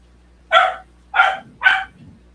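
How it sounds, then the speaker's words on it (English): A small puppy gives three sharp, high yapping barks in quick succession, each short and evenly spaced, fairly close and clear over a quiet low hum, with no talking. "little puppy that you hear in the background"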